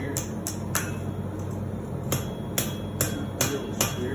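A blacksmith hammers a forged steel leaf on the anvil, giving a series of sharp, ringing metallic strikes at an uneven pace, close and distinct over a low background hum, with no talk.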